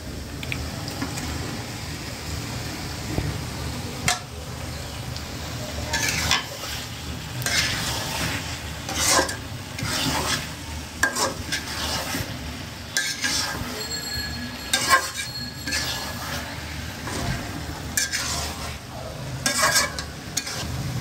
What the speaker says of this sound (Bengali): তো এই যে আমাদের এই মাংস এখন ভুনা করা হচ্ছে বা কষানো হচ্ছে।